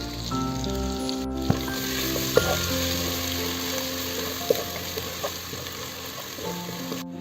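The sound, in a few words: crushed garlic, ginger and green chili frying in oil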